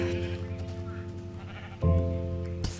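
Sheep bleating in the game Minecraft, a steady tonal bleat with strong harmonics that swells louder partway through, followed by a short burst of noise at the end.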